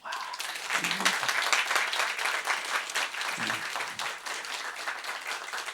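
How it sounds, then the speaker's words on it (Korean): Church congregation applauds at an anniversary revival service, a moderate burst of clapping across the hall, briefly swelling and easing, with a couple of low voice-like thumps under it. "박수 한번 해주세요"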